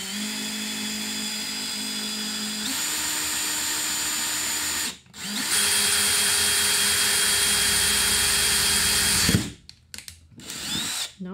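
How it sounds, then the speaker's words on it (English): Power drill boring a hole with a large bit, a loud steady high whine that shifts pitch, cuts out briefly, resumes, then stops in a series of short bursts. "This drill bit might be too big to start with"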